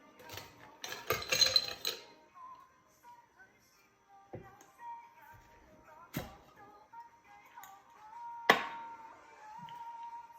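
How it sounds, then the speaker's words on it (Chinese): Ice goes into a tall Collins glass with a few sharp clinks and clatters, spaced apart, quiet and close, with light ringing in between. "加入冰"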